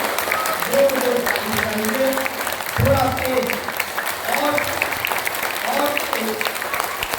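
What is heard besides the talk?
group clapping loudly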